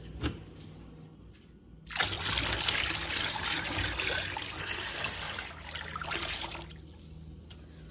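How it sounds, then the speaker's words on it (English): Water pours steadily into a container holding a largemouth bass being soaked for taxidermy, a broad rushing splash that starts abruptly and then tapers off, with no talking. "So now I'm going to add water till this fish is completely submerged in water."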